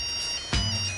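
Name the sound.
mobile phone ringtone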